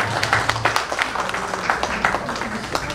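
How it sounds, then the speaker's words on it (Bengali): An audience at a Sweet 16 birthday church service breaks into scattered, moderately loud clapping that continues throughout the short stretch, with a faint murmur of voices underneath. "আসুন আমরা পিপির জন্য একটি জোরে হাততালি দিই।"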